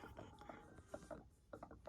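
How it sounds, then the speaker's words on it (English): An Epson ET-15000 sublimation printer draws ink from a bottle into its tank, giving a quiet, irregular series of gurgling, guzzling clicks at close range. "you can actually hear it like a guzzle. So it's like it's drinking the ink."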